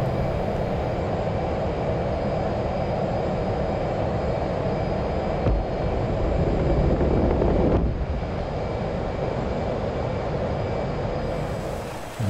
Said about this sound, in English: the catapult's going to do what it does best, launching you from 0 to 200 knots in about 2 seconds